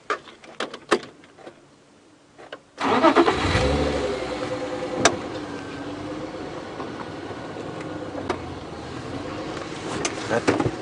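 Safari vehicle on a live game drive creeping slowly forward: a near engine turns over and settles into a steady low rumble with faint knocks, after a couple of seconds of quiet clicks.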